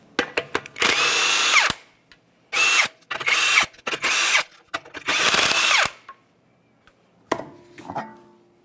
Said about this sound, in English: let's go ahead and remove all 5 of our 21mm lug nuts